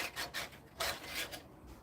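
Brass is hand-sanded with coarse 60 grit sandpaper in a few quick, quiet rasping strokes, each a short scratchy rub with brief pauses between.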